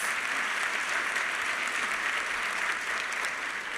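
Steady applause from a sizable crowd, even and sustained throughout with no pauses.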